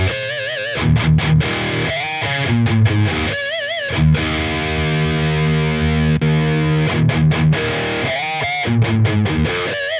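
Distorted electric guitar runs through a Mesa/Boogie Triple Crown 50 amp head dialed to a mid-heavy, Plexi-like tone, playing loud sustained chords and choppy bursts with brief gaps, and no voices.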